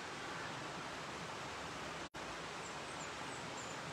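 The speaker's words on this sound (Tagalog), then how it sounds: "Ilog lang yung marinig mo." Steady, rushing flow of a river at Hinaguan Nature Park, a continuous broadband wash with no break except one brief momentary dropout midway, and no voices.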